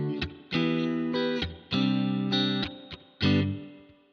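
A Boss RV-500 pedal on its space echo patch, set to plain reverb, colors short electric guitar phrases; choppy strummed bursts with pauses between them, each note leaving a brief ambient tail, fairly quiet overall.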